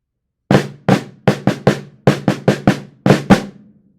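A snare drum with its snares engaged gives about a dozen sharp, loud, rattling strikes in uneven groups, each with a bright metallic buzz decaying quickly, close and alone without talk.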